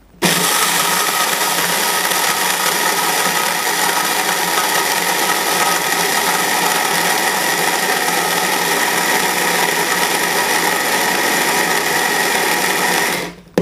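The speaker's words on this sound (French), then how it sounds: "Je les mets bien sûr dans le mixeur à café." Electric coffee grinder milling seeds into flour, a loud continuous high-pitched whirring drone that runs steadily for over ten seconds and then cuts off.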